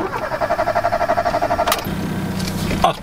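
A Fiat Uno 1.0 FIRE cranks with a rhythmic, pulsing starter churn for nearly two seconds, then catches and settles into a steady low idle, close and loud.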